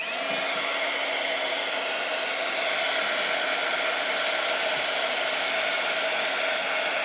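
A heat tool or dryer blows steadily and loudly up close while drying a steampunk mixed media craft tag, a continuous whooshing hum with no talk.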